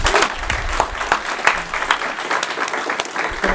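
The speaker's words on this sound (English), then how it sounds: "can we give them a round of applause, please?" Audience applause for a panel at a virtual reality meetup in Singapore, brisk scattered clapping with distinct individual claps, fairly close and loud throughout.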